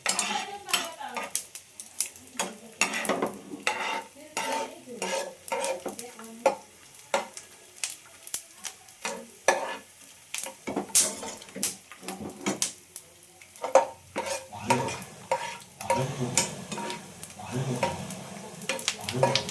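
Ginger pak mixture frying in ghee in a pan on low heat, with steady sizzling under repeated scraping and clinking of a spoon stirring against the metal, close up and continuous.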